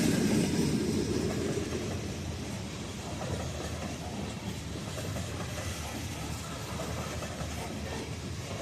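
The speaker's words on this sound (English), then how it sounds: "It is a Norfolk Southern grain train that runs from General Mills somewhere in Tennessee to a loadout facility in Kokomo, Indiana" A Norfolk Southern grain train rolls past at night in Seymour, a broad, steady rumble and roar of cars on rails that fades slightly after the first couple of seconds and then holds constant.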